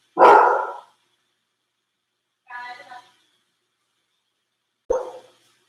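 Dogs barking at a passing garbage truck: three separate barks spaced a couple of seconds apart, loud and close, with silence between them.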